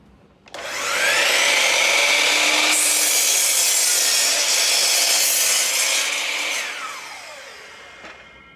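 A miter saw spins up and bites through a wooden board in one sustained cut, its loud whining rip holding steady for several seconds before the blade winds down and the sound fades.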